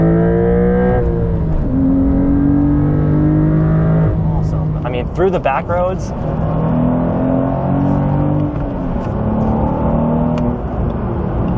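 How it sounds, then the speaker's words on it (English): Porsche 992 Carrera T's twin-turbo six-cylinder engine accelerating on back roads, its note rising through several pulls and gear changes, heard up close as a person talks over it. "the Carrera T comes with that twin turbo 6-cylinder, which makes around 370 horsepower."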